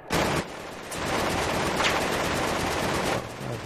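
Sustained automatic gunfire from Battlefield 3 on the Karkand map, loud and close, rattling continuously for several seconds with a brief gap near the start, directed at the player.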